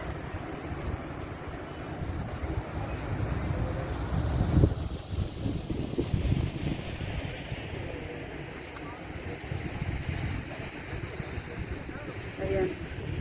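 Water tumbling down mountain rocks in a wadi produces a steady rushing wash with wind buffeting the microphone, continuous and fairly close, with people talking intermittently over it.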